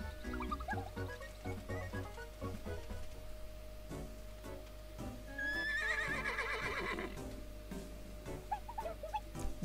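A cartoonish horse whinnies in the Miitopia video game, the shrill neigh bursting out midway over a quiet game music bed with a steady low hum.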